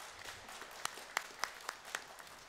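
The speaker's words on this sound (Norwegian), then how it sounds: "Skal vi gi henne en velkomst applaus?" An audience at a Christian gathering gives a welcome round of applause, with sharp individual claps standing out against a soft background murmur, fairly faint and brief.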